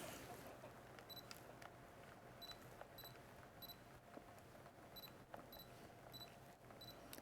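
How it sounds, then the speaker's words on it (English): A Canon 35mm f/1.4L lens autofocuses with a string of quiet, quick clicks and faint electronic beeps, repeating in short bursts over a low, hushed room background. "we'll hear just how quick it is to autofocus"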